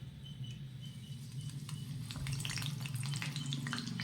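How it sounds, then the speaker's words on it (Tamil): Wheat flour snack dough frying in hot oil, a soft, continuous bubbling crackle close by that builds slightly in intensity, with no voices. "சூடான ஆயிலில் போட்டு பொரித்து எடுத்துடலாம்."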